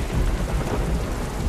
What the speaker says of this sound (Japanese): お、雷だ。